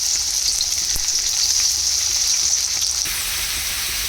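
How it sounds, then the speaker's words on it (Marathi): Finely chopped onion frying in hot oil in a kadhai makes a loud, close, continuous hiss and sizzle with a few small pops, holding steady to the end with no voices. "तेल गरम झालं की त्याच्यामध्ये आपण जो बारीक चिरलेला कांदा आहे तो टाकायचा आहे"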